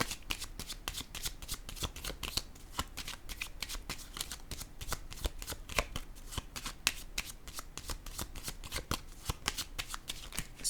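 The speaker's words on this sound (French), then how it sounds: "j'ai le goût de piger une petite carte sur la lettre." Tarot cards shuffled steadily by hand at close range, a fast, even run of crisp riffling flicks that continues throughout with no talking.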